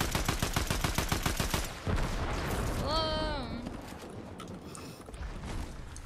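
Rapid bursts of gunfire in Fortnite, a fast regular volley of shots at the start followed by scattered game sound effects and a rising electronic tone, with voices talking over the action.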